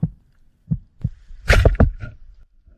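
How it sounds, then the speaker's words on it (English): Slow thumping heartbeat of a spearfisher waiting underwater, a few soft low pulses spaced apart, then a louder cluster of rapid thuds with some brighter noise. "After a while, the fish sense my heartbeat"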